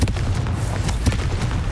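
Repeated booming blasts of the Confringo fire spell in Hogwarts Legacy, several sharp explosive bursts over a continuous rumbling combat background.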